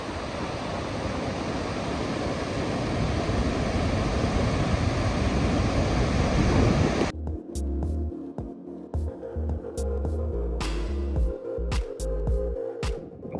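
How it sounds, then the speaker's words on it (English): Dettifoss, the most powerful waterfall in Iceland, roars as a loud, steady broadband rush for about seven seconds before it cuts abruptly to quieter, choppier sound. "Our next stop is on the west side of the most powerful waterfall in Iceland"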